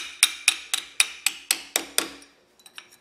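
Gentle hammer taps during a camshaft and timing install on a small-block Chevy V8: eight crisp, evenly spaced metallic knocks, then a few fainter, quicker taps at the end.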